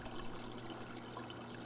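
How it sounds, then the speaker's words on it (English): Water trickles from DIY rain-gutter hydroponics channels back into a plastic tote, a steady soft hissing flow with no distinct drips and no voices. "The trickling of water back into the tote"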